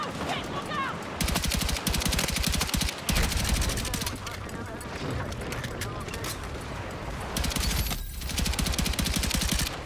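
A DMR rifle in the Battlefield video game fires a long stretch of rapid, repeated shots in loud bursts, with brief pauses between volleys and voices mixed in underneath.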